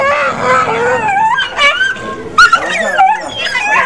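Stray dogs caught by a city dog pound in Quezon City, heard whimpering, yipping and barking close by in a continuous, overlapping chorus, with some voices mixed in.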